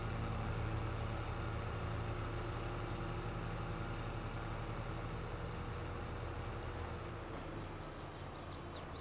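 A tractor engine drones steadily while driving in Farming Simulator 22, a quiet, constant mechanical hum that thins slightly toward the end.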